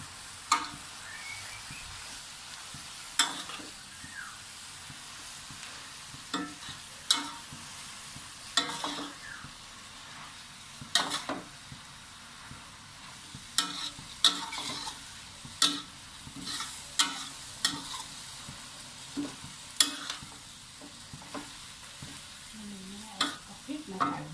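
Kale stir-fried in a pan for a salted-fish kale dish until it wilts: a quiet, continuous sizzle with frequent sharp scrapes and taps of a spatula against the pan, irregular throughout, with no talking.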